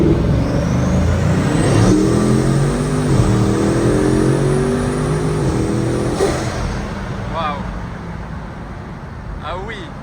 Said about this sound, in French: Comme ça on va pouvoir un peu entendre le bruit du W16 et surtout des 4 turbos.